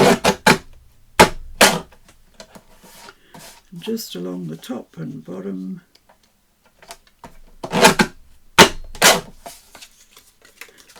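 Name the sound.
scissors cutting paper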